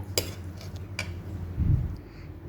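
A spoon stirs and mashes beaten eggs with onion, salt, lemon and tomato sauce in a bowl, giving a few light clinks and soft scraping knocks against the dish with a low steady hum underneath.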